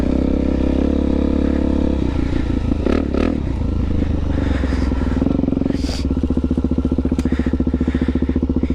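A Suzuki DRZ400 dual-sport motorcycle rides off-road, its single-cylinder engine droning loud and close throughout, with rising revs, a stall-like dip and steady throttle pulses, plus clattering and scraping from the terrain.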